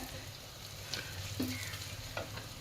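Onions sautéing in a pan for gongura dal, a soft steady sizzle with light scraping stir sounds, fairly quiet and continuous.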